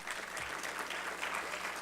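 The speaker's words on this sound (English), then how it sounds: "give yourselves a round of applause for that" Steady applause from an audience at a civic gathering, a dense wash of clapping at moderate distance that holds evenly throughout with no voices on top.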